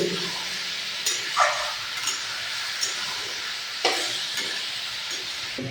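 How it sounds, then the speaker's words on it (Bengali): Chicken sautéing with onion and tomato in a pan for a home-style Kerala chicken biryani: steady broadband sizzle with a few scraping stirs and clinks, close and alone. "পেঁয়াজ টমেটোর সাথে ভালো করে কষিয়ে নেব।"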